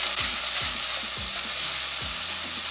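Garlic and ginger stir-frying in a hot pan give a continuous close sizzle, punctuated by repeated scraping strokes of a spatula roughly every half second, with no talking.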